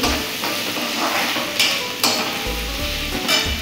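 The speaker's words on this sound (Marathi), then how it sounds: "आता हा कांदा आपला थोडासा परतत आलेला आहे।" Onion frying in a pan for dal kanda, a steady sizzle broken by a few sharp knocks of a utensil against the pan, close and fairly loud.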